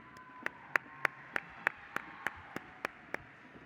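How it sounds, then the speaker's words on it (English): Slow, evenly spaced single claps, about ten sharp hits at roughly one per third of a second, fairly close and isolated rather than a full crowd, following a call to applaud the candidates at the Illinois FFA State Convention. "Illinois FFA, let's get a big round of applause for these outstanding candidates."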